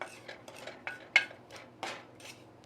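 A spoon stirs seasoning with thyme into a dish while cooking, making about seven quiet, irregular clinks and scrapes against the bowl.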